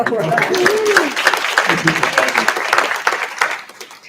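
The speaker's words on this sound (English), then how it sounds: "Round of applause for Janice." Reception audience applauds, scattered claps running throughout with a person talking over them near the start.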